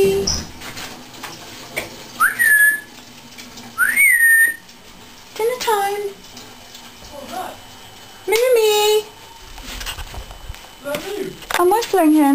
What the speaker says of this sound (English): I'm whistling him.